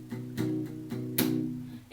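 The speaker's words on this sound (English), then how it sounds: "you're going to be using palm mutes again, but this time we're going to raise our hands slightly off the strings so that there's more of a sort of vibration" An acoustic guitar is strummed with a light palm mute, the hand held slightly off the strings, producing four short, ringing but damped chord strokes in a steady rhythm, close and fairly loud.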